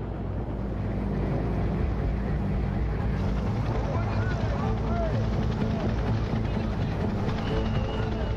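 Steady, loud whirring drone of a military helicopter during the Algerian War with a pulsing rotor texture, while someone speaks over it.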